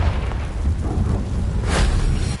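A Confringo blasting spell in Hogwarts Legacy erupts as a loud, rumbling magical explosion with a sharp burst near the end, heavy low boom sustained throughout, no talking.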